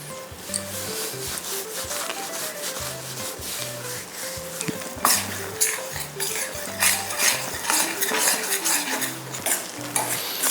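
Urad dal flour cooking in oil in a pan, stirred and scraped steadily with a utensil, making continuous rubbing and scraping sounds under a soft background tune, with no talking.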